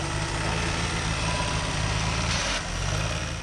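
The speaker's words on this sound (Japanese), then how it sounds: "エンジンが切れない。 切れない車になってる。" The engine of a front-end-damaged accident car idles loudly and continuously with a steady low rumble, briefly dipping before running on, and won't shut off.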